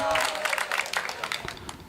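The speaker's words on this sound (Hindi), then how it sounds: "जब ये शब्द आए ना लैला है तब ताली बजाना" Audience at a Hindi comic poetry gathering clapping briefly, a quick patter of applause close by that fades after under two seconds.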